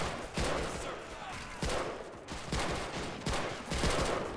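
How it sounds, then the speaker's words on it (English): Bursts of machine-gun fire from a mounted MG in a Pacific beach assault in a WWII shooter game, several sustained volleys separated by short pauses, loud and close. "let's use this MG against the Japanese troops defending"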